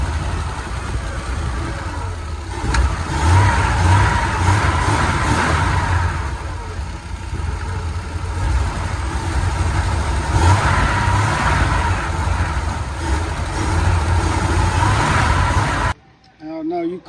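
A carbureted engine runs steadily at a fast idle, loud and close, with its low rumble holding for about sixteen seconds before cutting off abruptly near the end.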